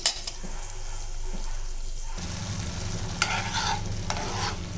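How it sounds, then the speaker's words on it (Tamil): Garlic and chili chutney stirred in hot oil in a pan, with a faint quiet start, then a steady loud sizzle and frying hiss and scraping stirs that carry on to the end, with no voices. "இப்போ இதை நல்லா கிளறி விட்டுக்கலாம்"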